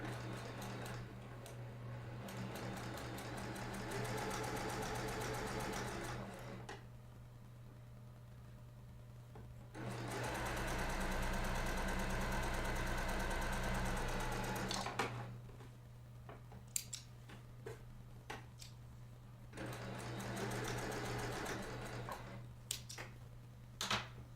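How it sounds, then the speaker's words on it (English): A sewing machine runs in long bursts while stitching quilt pieces together, a steady mechanical whir with a constant hum, then pauses and sharp clicks as the fabric is handled. "I'm going to sew on the other side."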